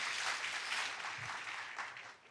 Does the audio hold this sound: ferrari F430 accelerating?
no